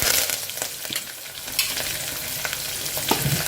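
Black gram and spices crackle and sizzle in hot oil close by, a continuous frying hiss with occasional pops and light stirring scrapes.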